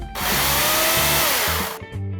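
A STIHL electric chainsaw runs at a loud, steady high-pitched whine with a slight dip in pitch partway through, then cuts off abruptly, leaving a brief low rumbling tail.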